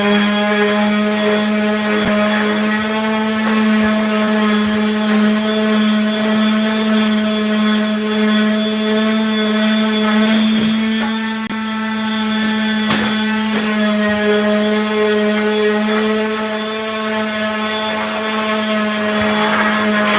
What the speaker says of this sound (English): I'm going to sand a little bit more.